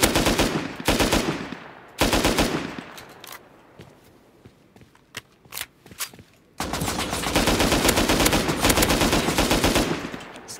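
Gunfire in a video game shootout: loud rapid automatic bursts, a pause with scattered single shots and footsteps, then a long sustained burst of fire.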